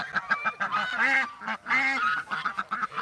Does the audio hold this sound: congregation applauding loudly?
no